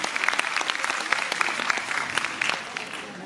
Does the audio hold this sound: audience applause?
yes